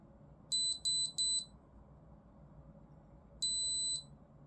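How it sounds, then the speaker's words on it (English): An electronic device sounds three short high beeps in quick succession, then after a pause a single longer beep, clear against a quiet hum. "I don't know why it's beeping at me"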